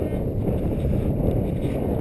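Strong wind buffets the microphone with a constant low rumble and roar throughout, with no voices.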